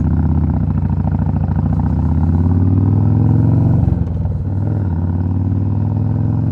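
A Kawasaki Mean Streak motorcycle engine runs loud and close while riding, a continuous deep throbbing drone that dips briefly as the throttle changes, then carries on steadily with no talk over it.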